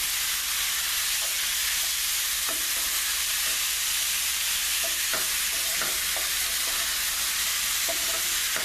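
Chicken sautéing on a high flame in a pan with basil and portobello mushrooms gives a steady, dense sizzle throughout. Faint scrapes of stirring tick in now and then.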